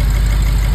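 BMW N63 twin-turbo V8 idles after restart following fuel injector bore and seal repair for misfires, a steady loud close rumble with faint rhythmic pulsing and no talking.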